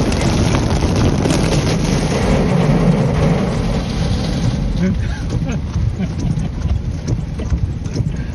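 Heavy rain pours onto a vehicle roof while riding along a river in New Orleans, a loud, dense, continuous drumming hiss with wind buffeting the microphone throughout.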